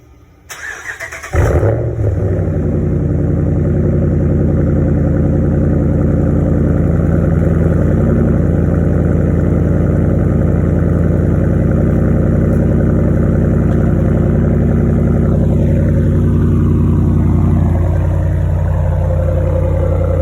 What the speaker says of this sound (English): I'm gonna do a quick cold start for you guys.